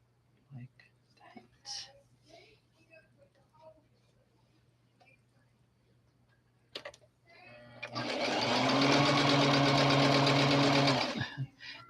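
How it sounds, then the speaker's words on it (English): A sewing machine runs steadily for about four seconds, stitching a Holly Hobbie doll outfit, after soft murmured talk and a few light handling clicks. "sew this up"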